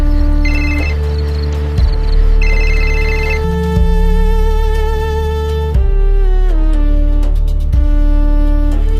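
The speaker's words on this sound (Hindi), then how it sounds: "चलो, अब मैं भी प्रिया को एक बार फोन लगाता हूं।" A phone's outgoing-call ringback repeats as a loud electronic tone pattern, tonal bursts cycling steadily with no talk over it.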